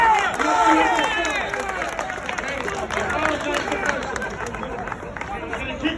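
A crowd of striking Hunts Point Market workers at a rally claps and cheers loudly close by, a dense burst of applause and shouting that slowly thins, with voices calling out over it.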